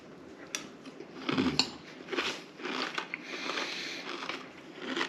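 Crunchy cereal being eaten with frozen blueberries and icy milk, a few loud crisp bites and chewing crunches at close range, with soft spoon and bowl clinks between them.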